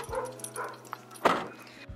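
Several dogs arriving home give a few short barks and yips, with one louder burst near the middle, amid household movement and soft background sounds.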